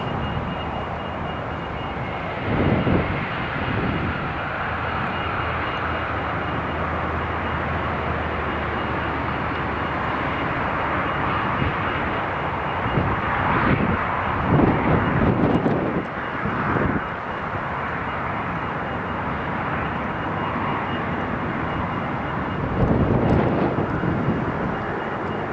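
An Italian Air Force C-27J transport plane lands at Newcastle International Airport, its turboprop engines giving a loud, sustained roar that swells and fades with brief surges, heard from the airfield with no talking.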